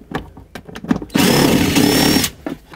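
A power tool runs in one steady, loud burst of a little over a second as it backs out 10 mm bolts on an ignition coil cover of a 2003-2021 Chevrolet Express van, with lighter clicks and handling noises before and after.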